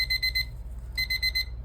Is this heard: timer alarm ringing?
yes